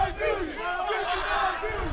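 A dense stadium crowd roars and yells at a football game right after a turnover on downs, a steady wall of cheering with a voice rising over it throughout.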